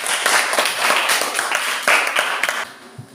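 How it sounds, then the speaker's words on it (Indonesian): A small classroom group claps: loose, uneven hand claps with distinct individual strikes, close and fairly loud, thinning out toward the end. "berikan tepuk tangan sama"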